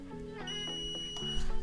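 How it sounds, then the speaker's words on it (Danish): A long electronic beep from an Aqara Curtain Driver E1 curtain robot mounted behind curtains, a steady tone held for over a second, with no talk. "Der fik vi et langt bip"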